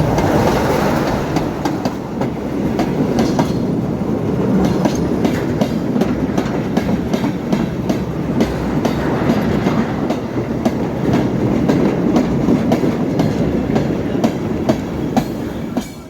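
A Class 101 diesel multiple unit runs on the Great Central Railway heritage line, with a steady loud rumble and rhythmic clickety-clack of wheels over rail joints throughout.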